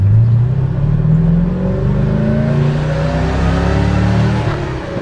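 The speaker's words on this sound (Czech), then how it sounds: "603 je skutečně slyšet už na dálku." A restored classic Tatra 603 car engine revs loudly and close up, its rising, throaty drone building steadily with no talking over it.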